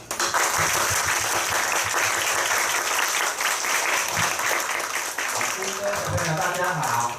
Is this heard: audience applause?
yes